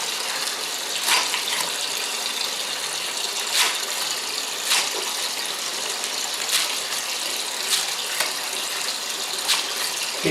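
Running water fills a kitchen sink as shredded spinach is dropped in for washing, a steady close hiss with occasional brief splashes and clatters, no voices.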